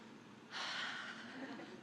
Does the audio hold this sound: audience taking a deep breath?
yes